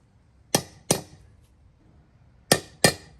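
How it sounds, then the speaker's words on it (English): Four sharp metallic whacks drive a wheel bearing race into the front hub of a Toyota 100 Series Land Cruiser with an installation tool. They come as two quick pairs, close by, with no talk. "make sure the installation tool is aligned well with the race, and just give it a couple whacks"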